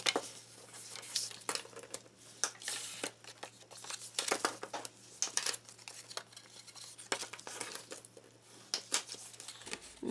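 Paper being folded and creased by hand for a handmade travel folio, a close series of crinkling, rustling and crisp sharp creasing sounds in an otherwise quiet room.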